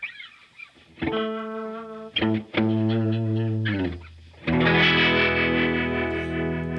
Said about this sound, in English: that sounds to me more like a tremolo